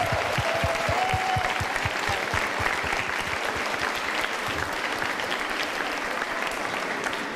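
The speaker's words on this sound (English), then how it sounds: "So can we give a big round of applause?" An audience at a fundraiser gives a sustained round of applause, full and continuous throughout, with sharp individual claps standing out near the start and a faint crowd murmur beneath.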